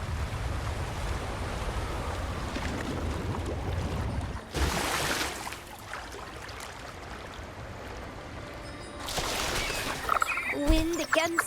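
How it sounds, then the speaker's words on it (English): Rushing waterfall in the video game Wuthering Waves, a constant watery roar throughout, with brief swells of other game sounds partway through and near the end. "Another waterfall."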